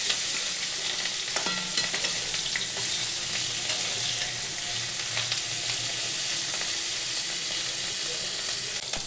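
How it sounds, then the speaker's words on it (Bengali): Cauliflower and potatoes fry in hot oil with a steady, dense sizzle close by, stirred now and then, with no voices. "কপি আলুটা ভালো করে বন্ধুরা ভেজে নিই।"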